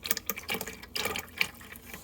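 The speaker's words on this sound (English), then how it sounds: "Dripping." Liquid drips and splashes in quick, irregular bursts at close range during cold-process soap making with equal parts water and lye, fairly quiet and with no talking.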